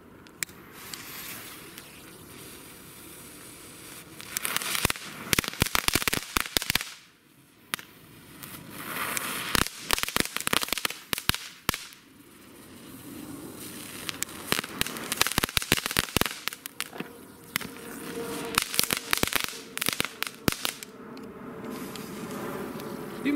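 Lesli Kool Krokodile category 1 fireworks set going off outdoors, a long run of rapid crackling and buzzing bursts in dense clusters with brief pauses, fairly loud and close, no talk.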